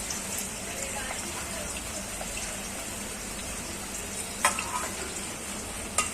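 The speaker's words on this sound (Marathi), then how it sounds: "आता हा बिर्याणीसाठी आपल्याला कांदा पाहिजे ना, तो परतायचा आहे." Chopped onion frying for chicken biryani made in a pressure cooker, a steady low sizzle with occasional sharp clicks of stirring, close by and fairly quiet.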